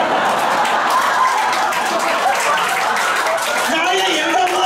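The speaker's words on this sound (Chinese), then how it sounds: "那么这边跟这边请大声欢呼啊，大声欢呼" A comedy show audience cheers and claps, a dense, steady wash of crowd noise with scattered shouts and laughter throughout.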